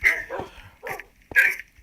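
Dogs bark in Minecraft, several short yips and barks in quick succession, close and clear with brief pauses between them.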